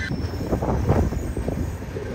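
Golconda Express train pulling out of Moula Ali station, with a steady loud rumble of wheels and carriage noise heard from on board.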